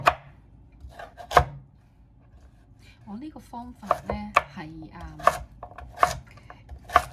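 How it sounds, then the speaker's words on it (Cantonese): Knife chopping peeled purple sweet potato into small dice on a board, sharp close strikes in an uneven rhythm of about eight chops, with someone speaking Cantonese over the middle stretch. "我哋將呢一個紫薯刨咗皮先，跟住咧我哋就將佢切細粒"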